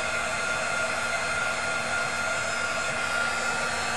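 Heat embossing tool warming a plexiglass sheet, a steady close blowing hiss with a constant faint hum, unbroken for the whole stretch and without voices.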